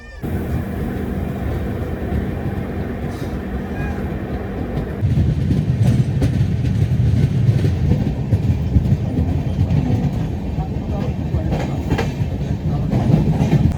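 The Nandankanan Express runs on the rails after leaving Medinipur station, a loud, continuous interior rumble with a rhythmic clatter that grows heavier as the train picks up speed.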